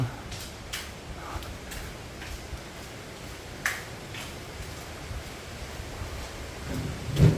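Steady broadband rushing of a mountain stream in a valley nearby, continuous and fairly even, with a few faint clicks and a soft thump near the end.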